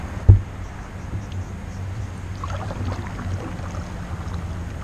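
An Australis Saratoga kayak paddles along a river in Tasmania, with one sharp paddle knock early on, then soft water swishes and faint wind noise in a quiet outdoor setting.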